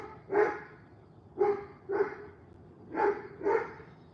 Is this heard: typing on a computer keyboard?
no